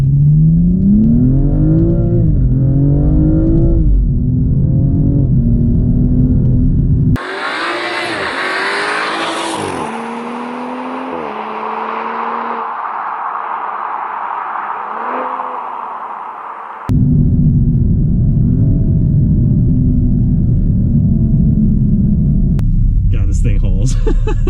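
A 2015 BMW M235i accelerating hard, its engine rumbling and rising in pitch through the gears from inside the cabin, loud and sustained, with a brief break in the middle where the tone shifts higher.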